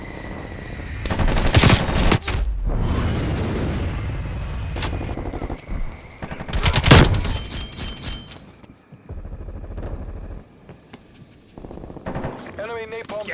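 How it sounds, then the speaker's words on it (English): Heavy bursts of strafe-run gunfire and explosions from an aircraft attack in Call of Duty Black Ops Cold War, with loud sustained rattling and booms, then quieter scattered shots and game announcer voices. "Strafe run incoming on your location."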